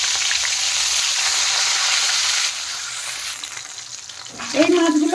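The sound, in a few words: rohu fish pieces frying in oil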